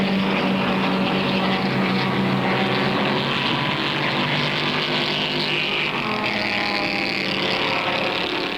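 Racing engines from 1965 endurance racing, a Ford GT and Shelby Cobras among them, roar steadily at close range in a continuous loud drone, the tone shifting slightly as the cars pass.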